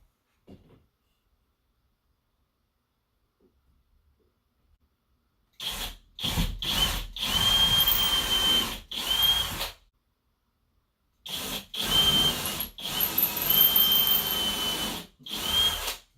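A power drill drives screws while closet doors are installed, two long bursts of whirring separated by silence, each broken into short pulses as the trigger is feathered, loud and close.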